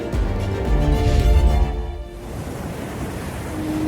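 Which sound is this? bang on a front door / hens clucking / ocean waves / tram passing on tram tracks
ocean waves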